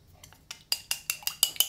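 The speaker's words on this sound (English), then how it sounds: "Usually, I think in the United States, you whisk with a whisk, right? In China, we use chopsticks instead." Chopsticks whisking eggs in a bowl, starting with a few soft taps and building into a steady run of sharp, bright clicks against the bowl's side, close and alone.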